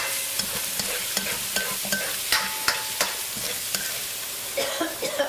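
Two eggs fry in hot oil in a pan, a constant crackling sizzle broken by repeated sharp spoon taps and scrapes against the metal.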